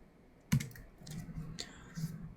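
A command is typed on a computer keyboard: a few quiet, close keystrokes and clicks come in a short, uneven burst.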